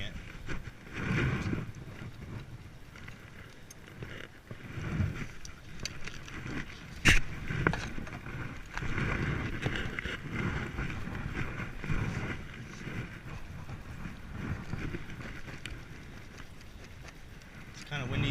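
Gusty wind buffets the microphone in uneven rumbling bursts during an outdoor beehive inspection, with a person talking intermittently underneath.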